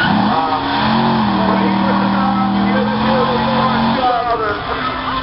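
A drag race car revs loudly and close, its engine holding a steady high drone before dropping off, with people talking over it.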